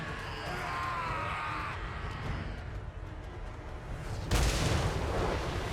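Artillery explosion in a Total War: Warhammer 3 battle: a low rumbling blast of war-game artillery, a sudden heavier boom bursting in near the end over a continuous bed of battle noise.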